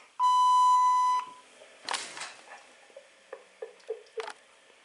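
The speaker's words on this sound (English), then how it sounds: "Please leave your name and phone number after the beep." A single long, clear electronic beep rings out from a Panasonic KX-TG5243 cordless phone answering machine, followed by quieter scattered clicks and small noises.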